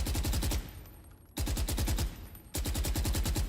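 A suppressed rifle in the Valorant shooter fires in three long full-auto bursts of rapid, evenly spaced muffled shots, each burst cutting off abruptly before the next, loud and close with no talking.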